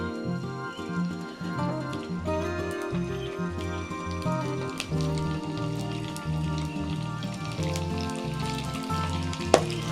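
Steamed siomai hit hot oil in a pan and fry with a continuous spattering crackle, close and moderately loud. A music-like background hum runs underneath, and a sharp pop sounds near the end.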